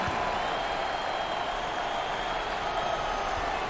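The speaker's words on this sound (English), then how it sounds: "Full house and a packed crowd, and they are into it tonight." A packed home crowd at a 2021 NCAA Tournament first-round basketball game between Norfolk State and USC roars and applauds in a steady, dense wall of cheering throughout.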